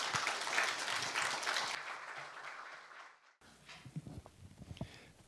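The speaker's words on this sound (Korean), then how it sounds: "큰 환영의 박수 부탁드립니다" Audience applause welcoming a lecturer onto the stage at a humanities forum talk on artificial intelligence, steady clapping for about three seconds, then a sudden drop to a quieter room with scattered knocks and faint shuffling.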